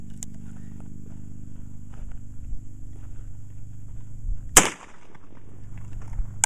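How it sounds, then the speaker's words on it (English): A single sharp report of a Remington rifled slug fired from a Rossi Matched Pair .410 shotgun, loud and abrupt against a quiet low hum. "five Remington rifled slugs through the Rossi Matched Pair 410 shotgun barrel"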